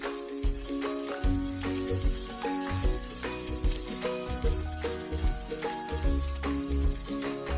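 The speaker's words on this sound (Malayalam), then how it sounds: "വഴന്ന് വരുന്നത് വരെ ഇളക്കി കൊടുക്കണം." Ivy gourd sautéing in a pan gives a steady sizzle, broken by repeated scraping and clattering strokes as it is stirred, close and fairly loud with no talk.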